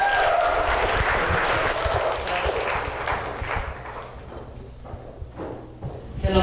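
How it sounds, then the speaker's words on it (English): Applause from an audience at a post-show talk as a performer comes on stage, heard as dense, steady clapping that thins and fades toward the end, with scattered individual claps and some crowd voices. "please clap it up for Denice"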